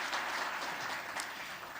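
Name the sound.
church congregation applauding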